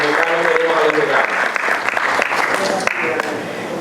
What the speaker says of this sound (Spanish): Un aplauso para don Jochi.